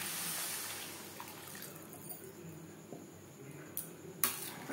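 Water splashes and pours into a pan of potatoes and peas. A faint, steady wash runs beneath a few light clinks of a utensil against the pan.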